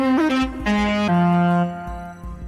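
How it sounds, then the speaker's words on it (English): Xpand!2 synth preset stacked from three layered parts plays a short melodic phrase of bright, harmonically rich sustained notes with pitch slides, loud and close, with no voices. "The first part of the sound is made up of a preset that I put together"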